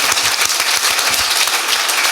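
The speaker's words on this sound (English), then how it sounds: "I think that deserves a round of applause." Dense applause from a large audience at a film anniversary event, steady and loud throughout with many overlapping claps and no voices on top.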